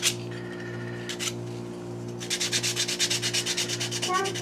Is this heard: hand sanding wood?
yes